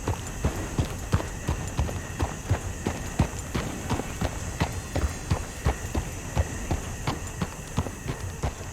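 Galloping horse hooves in Red Dead Redemption 2, ridden through swampy terrain: a steady, rapid clip-clop rhythm of close, fairly loud impacts repeating throughout over a faint ambient background.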